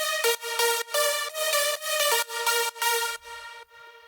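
Clean synth lead patch in FL Studio plays a bright, choppy melodic line of short repeated notes, evenly rhythmic and alone, with the final notes trailing off quietly.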